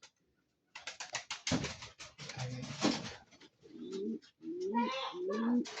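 Pet pigeons kept at home, including a breeding pair on eggs, cooing softly in low rolling phrases near the end, after a stretch of clicking and rustling movement at close range.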